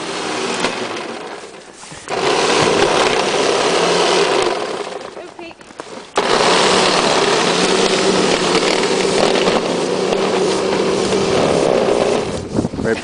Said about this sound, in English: She's having fun using a snowblower